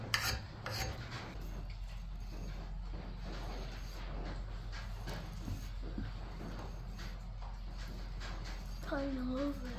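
A Collens double bit axe is sharpened with steady rasping, rubbing file strokes at a low level, repeated in a loose rhythm under faint background hum.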